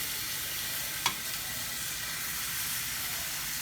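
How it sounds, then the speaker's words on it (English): Chicken pieces laid skin side down in an oiled pan sizzle with a steady, dense hiss, close and continuous, with one brief clink partway through and no talk. "It should make a nice sizzling noise when you put it in."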